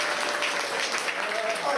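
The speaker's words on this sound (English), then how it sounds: "Let's do a round of applause." Audience applause on a Disney's Hollywood Studios backlot studio tour, a short, steady wash of clapping at moderate level, with a voice speaking over it.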